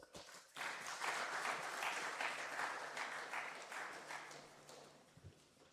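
An audience at an international conference applauds the DRC delegation. The clapping swells after a quiet start, then holds at a moderate level and thins toward the end, with a faint murmur of voices underneath.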